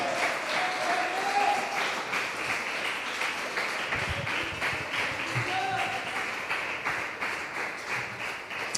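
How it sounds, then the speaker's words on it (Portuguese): A church congregation applauds steadily through a Portuguese-language worship service, a dense continuous patter of clapping with voices mixed in underneath. "aplauda Ele"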